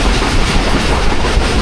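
The Pakistan Express rumbles loudly and close across the Korang bridge on an early, rainy morning, a dense continuous roar of wheels and carriages with a faint rhythmic clatter.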